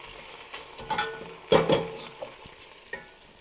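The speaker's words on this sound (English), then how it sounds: "So we'll go ahead and stir that in." Split peas being stirred into a pot of smoked turkey soup, with soft scraping and a few louder clanks and stirring bursts near the middle, with a faint background hum and no talking.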